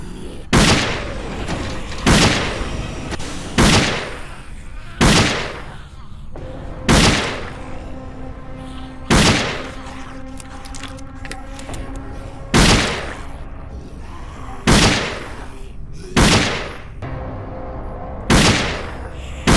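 Loud gunshots from the zombie shooter video game Dead Effect, single heavy blasts firing at a slow, regular pace about every two seconds, each trailing off with a booming decay.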